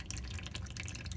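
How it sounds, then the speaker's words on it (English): Engine oil drips from the drain hole of a 2012-2016 Kia or Hyundai during an oil change, a quick irregular run of small liquid drips and splatters, close and faint, with no talking. "And then just let it drip out."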